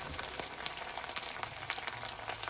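Curry leaves frying in a pan of oil for buttermilk stew, a dense, crackling sizzle with quick sputtering pops throughout, close and fairly faint, with no voices.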